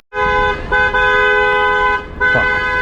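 A loud, sustained car horn blares almost continuously, with a brief break near the end before honking resumes, over steady road traffic noise.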